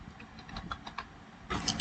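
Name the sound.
typing IGST on a computer keyboard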